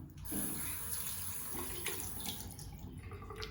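Tap water runs steadily into a sink while a toothbrush is rinsed under it, a close, continuous hiss and splatter with no speech.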